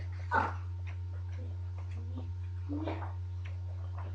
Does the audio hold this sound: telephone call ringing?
no